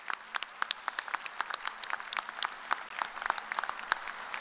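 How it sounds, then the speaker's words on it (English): Applause from a graduation audience at a fall business administration commencement, a fairly faint, steady patter of many hands with sharper individual claps popping through, heard alone without talk. "I think that deserves a big round of applause"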